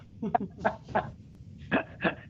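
A pet dog barks during an online Board of Health subcommittee meeting held in July 2020. About five short, sharp barks come in a loose, uneven rhythm and sound fairly close and moderately loud, with no other sound between them.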